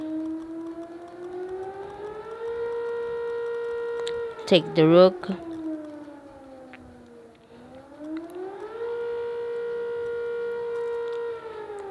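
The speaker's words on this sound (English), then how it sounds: "that is the alarm or the siren that says it's 10 and it's a curfew" A civil defense siren sounds the ten o'clock curfew, a steady wailing tone that rises, holds, dips and rises again across the whole stretch, with a person speaking briefly over it.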